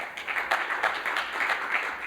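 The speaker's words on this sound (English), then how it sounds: "So can we give Justin a round of applause," A conference audience claps for a speaker at a security conference, a brisk, steady patter of many hands at moderate loudness with individual claps standing out, and no talking over it.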